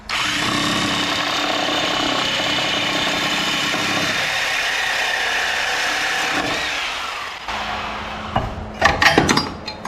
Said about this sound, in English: See if we can get in here with the old Sawzall.